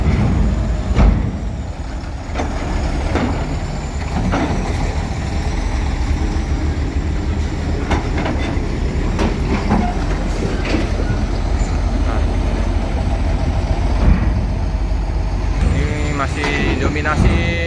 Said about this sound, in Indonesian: mobil-mobil truk ini ya,